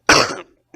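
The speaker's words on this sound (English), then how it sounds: "Sorry about the cough." A single sharp cough during a math test review lecture, loud and close, trailing off, then a brief faint second cough or throat sound a moment later.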